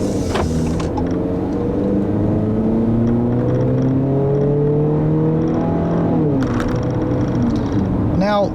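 A 2014 Jeep Cherokee Sport's 2.4-liter engine accelerates, its note rising and shifting steadily and fairly loud, heard from inside the cabin, with a voice talking over parts of it.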